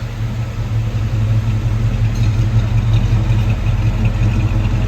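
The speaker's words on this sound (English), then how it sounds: "Let's listen to that exhaust here in the back." A 1930 Ford Model A Limousine's dual-pipe exhaust rumbles steadily at idle, a deep low drone that holds constant throughout, close and moderately loud with no voices.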